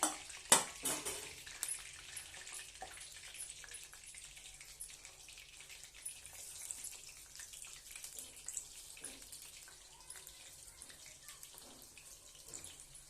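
Soya manchurian pieces frying in hot oil give a steady, crackling sizzle with scattered pops and clinks, close and moderately loud with no talking.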